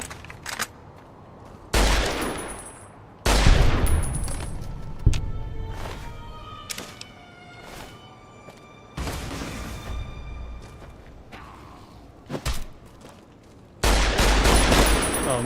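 Survivalist rifle shots in the Fallout New Vegas video game, LONESOME ROAD content: several sharp, loud cracks spaced irregularly across the span, some clustered into short bursts, with quieter game ambience between them.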